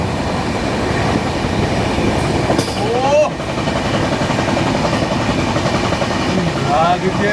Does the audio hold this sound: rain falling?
no